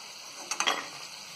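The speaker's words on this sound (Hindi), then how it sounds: "गैस को हम यहाँ थोड़ा सा मद्दा रखेंगे और इसे अच्छी तरह फ्राई कर लेंगे।" Shakarpara dough frying in hot oil on a gas stove, a soft steady sizzle with a couple of brief bubbling bursts as the pieces are stirred, quiet and close.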